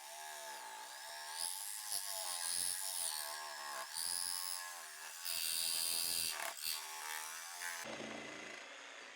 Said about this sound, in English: it does take some practice to get the right speed when you are cutting curves with this blade and the jigsaw